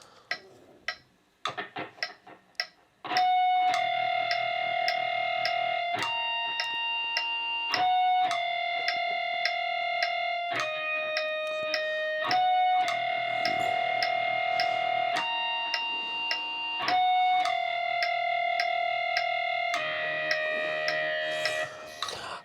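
Electric guitar lead of ringing natural harmonics played with distortion and reverb, starting with a few muted picks, then sustained bell-like chiming notes changing in a steady pattern, loud and up close.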